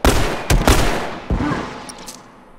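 Several loud gunshots in The Last of Us Remastered, distinct heavy blasts spaced irregularly and fading into a lingering echo.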